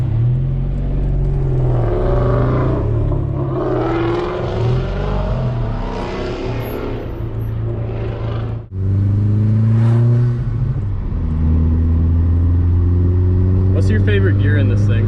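A tuned Stage 3 Audi A4 with about 450 horsepower accelerates hard through the gears. Its engine roars and rises in pitch, drops briefly at a shift, then climbs again, while people talk over it.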